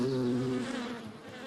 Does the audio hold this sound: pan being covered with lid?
no